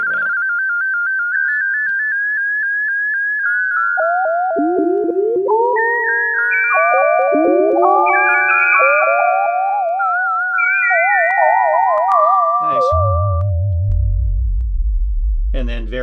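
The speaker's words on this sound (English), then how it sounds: "yeah, this is Celeste." A Celeste voice on a multitouch JavaScript synth pad plays a run of bright, bell-like sustained notes that shift and overlap in a loose melody, ending with a brief burst of low rumbling tone.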